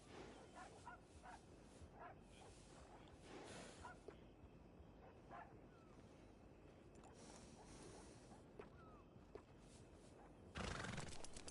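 A horse whinnies a few times at a distance over steady outdoor background noise in the video game Red Dead Redemption 2, with a louder burst of activity near the end.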